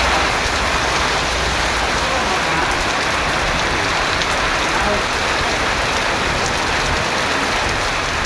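Heavy rain pours down with wind over coastal towns such as Poompuhar and Thirumullaivasal: a dense, loud, unbroken hiss and roar of rainfall that stays constant throughout, with no voices.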